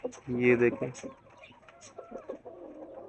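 A hen clucks in a few short, close bursts as she walks in to settle onto her eggs, with softer murmuring clucks following and a person briefly speaking.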